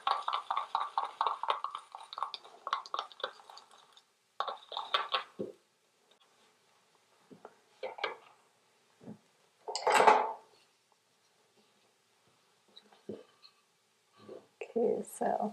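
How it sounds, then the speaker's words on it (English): White milk paint is stirred, with a utensil scraping the bottom and sides of the container in short, scattered scrapes and taps, after a stretch of soft talk at the start. "So I'll give my white a good stir."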